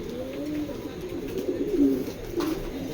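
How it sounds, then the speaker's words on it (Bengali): A pigeon coos close by in a series of soft, throaty rolling calls, one phrase swelling louder midway, a racer pigeon kept for sale, heard alone with no speech. "মাদির জন্য পাগল কবুতরটা।"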